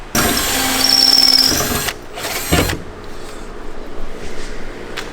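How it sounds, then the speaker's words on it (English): A power drill drilling holes in a Mazda Miata runs in a long loud burst, then a shorter one, whirring close by, followed by quieter background rustling. "More drilling."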